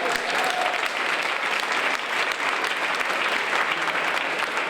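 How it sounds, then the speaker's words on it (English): Dense, sustained applause from a large crowd, steady and full throughout without pause. "Give yourselves a round of applause for just being here."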